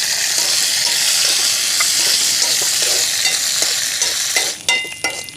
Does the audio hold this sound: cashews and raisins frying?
yes